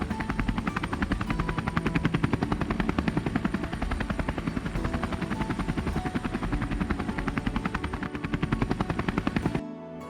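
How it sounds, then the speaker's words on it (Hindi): A helicopter's rotor thumps loudly and steadily up close, its heavy rhythmic chop filling the air before stopping abruptly near the end. "तभी इधर बाबा अपनी हेलीकॉप्टर से आते हैं और इन लोगों के घर के सामने उतरते हैं"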